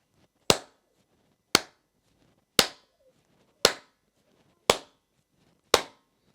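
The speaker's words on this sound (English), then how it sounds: "Let me clap to demonstrate that." Six sharp, isolated hand claps sound at an even, steady beat about one second apart, close and clear with near silence between them.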